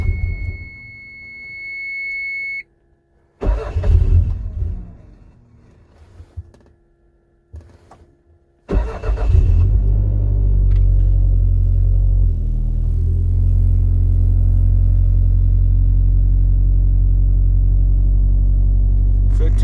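A cold Toyota MR2 engine on fresh fuel settings cranks in a couple of short bursts, catches on the second try and settles into a steady, loud, low idle rumble.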